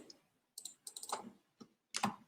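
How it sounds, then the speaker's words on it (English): A computer mouse clicks in short scattered bursts, close and fairly quiet, with near-silence between the clicks and no talking. "And now we are just clicking on Continue button."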